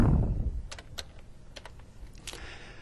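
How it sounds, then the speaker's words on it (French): Keys clatter on a computer keyboard in scattered quick taps, close and moderately quiet, with no talking. "je cherche la parenthèse sur mon clavier"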